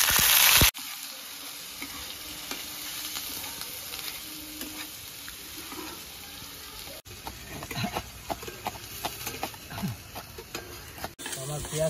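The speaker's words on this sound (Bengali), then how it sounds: "এবার আমি দিয়ে দেবো পেঁয়াজ বাটা" Onion paste fries in hot oil after dried chillies were tempered, making a close, steady sizzle with occasional stirring scrapes and clicks, alone without speech.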